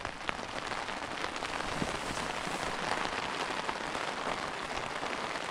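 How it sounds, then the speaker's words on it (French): Steady rain patters on a tent overhead, dense and continuous, with occasional heavier drops standing out close by. "Ça c'est le bruit de la pluie, ça."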